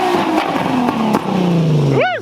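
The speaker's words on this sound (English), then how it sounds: "So that is how to burn out an all-wheel drive Q50" An all-wheel-drive Infiniti Q50 doing a burnout holds a loud, close engine roar that wavers in pitch, then revs sharply up and back down at the end.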